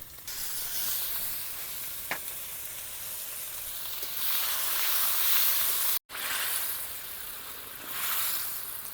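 Koi fish frying in spiced oil in a pan, being stirred and turned, a steady close hissing sizzle that swells and eases, with a brief utensil tap and a short cut in the sound.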